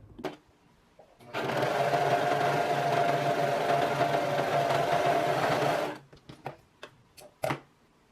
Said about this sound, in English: I'm finishing off the bottom edge here with my serger